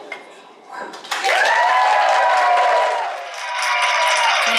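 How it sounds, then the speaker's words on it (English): A crowd breaks into loud applause and cheering for a child's jump: after a brief quiet lead-in, a sudden swell of clapping mixed with a sustained high-pitched shout or whoop, easing slightly before rising again. "He gets his round of applause."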